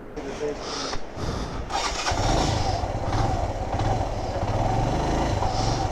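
Motorcycle engine starting up and settling into a rumbling idle on a solo road trip from Kumrat to Chitral in northern Pakistan, close and fairly loud, with a voice speaking over it.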